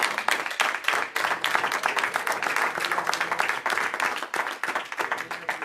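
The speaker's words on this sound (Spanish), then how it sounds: "Dele fuerte el aplauso." A church congregation claps loudly during a sermon, dense sustained applause with many overlapping hands and no break.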